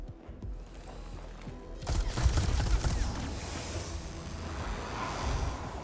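Burst of weapon fire from the Warhammer 40,000: Mechanicus video game, a sudden loud crackling volley after a quiet mechanical start, followed by a sustained rumbling wash.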